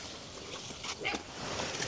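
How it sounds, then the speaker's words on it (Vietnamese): A dog barks a couple of short times in the distance at a rural hillside home reached on a rainy trek, the yips faint and partly masked by wind and rain noise. "nghe tiếng chó sủa rồi"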